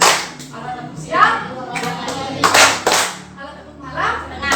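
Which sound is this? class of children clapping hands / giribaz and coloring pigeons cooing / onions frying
class of children clapping hands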